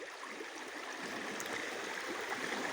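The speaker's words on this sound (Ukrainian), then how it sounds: "вода тече вже тисячі років, і мене не буде, а вода буде далі тече" Steady flowing water from a stream babbles and rushes continuously close by, a constant bright wash of sound with no voices.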